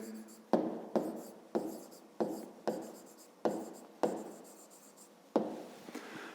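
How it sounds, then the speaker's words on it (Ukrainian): A hand writing out the answer to a grade 5 maths exercise: a series of about nine distinct pen or chalk strokes, each a sharp scratchy onset that fades, close and moderately quiet, no talking. "а тепер записуємо відповідь"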